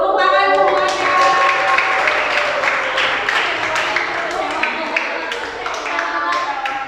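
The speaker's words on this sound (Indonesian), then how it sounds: "Tepuk tangan semuanya" A class of students claps together in a classroom, a bright burst of many hands that continues unevenly with individual claps standing out, while voices chatter through it.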